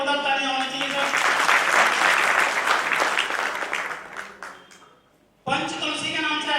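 Audience applause at a company product speech, a loud sustained crowd clapping that swells, then fades out near the end before a voice resumes speaking.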